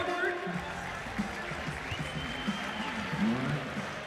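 A crowd at a basketball event applauds and cheers for a player named Robert, clapping mixed with shouts and voices, lively and sustained throughout.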